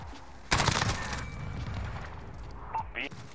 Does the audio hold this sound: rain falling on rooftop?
no